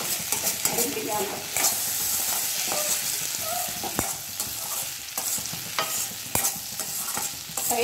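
Potato fry is stirred in a hot pan, with repeated scraping and clacking strokes of the spoon over a constant close sizzle of frying.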